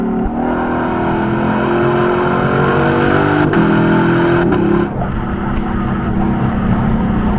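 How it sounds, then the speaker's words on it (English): A Lexus LC500's 5-liter V8 with stock exhaust revs and drones loudly, pitch climbing through gears with a deep rumbling exhaust, close and continuous with no talking. "The best way I can describe the sound of this 5-liter V8 is just monstrous."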